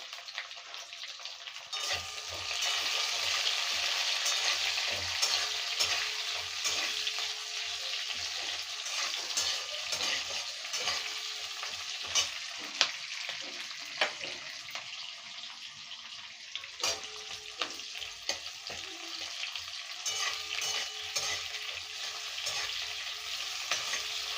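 Thickly sliced onion frying in oil with mustard seeds, chilli and curry leaves: a loud, continuous close sizzle with occasional clatter from stirring, no talking.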